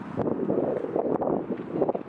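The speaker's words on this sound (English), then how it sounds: "It is a windy day." Wind gusts buffet the microphone, a low rumbling roar that swells and dips throughout.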